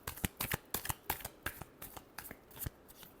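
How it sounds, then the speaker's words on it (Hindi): Tarot cards shuffled in a steady run of crisp riffling bursts, about a dozen quick flutters in close succession, near and alone with no voices. "last shuffle"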